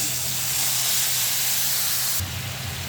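Curry with spices bubbles at a full boil in a pot, a loud, steady hiss and seething roar with no pauses, shifting slightly near the end.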